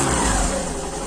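A BS6 motorbike engine fires up on its electric self-start and runs steadily, a loud, close, continuous mid-pitched engine note with no talk over it.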